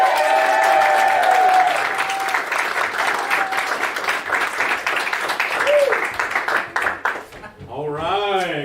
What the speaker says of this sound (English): Please give us a round of applause for our musical guest